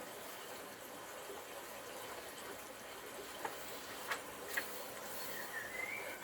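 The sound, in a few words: creek running high and loud after rain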